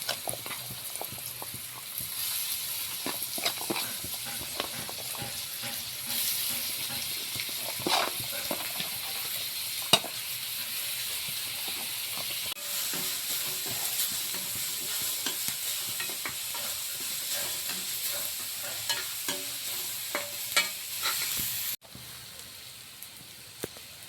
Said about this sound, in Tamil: இப்போ நம்ம ஒரு வெங்காயத்தை எடுத்து அதில் போட்டு நல்லா வதக்கணும்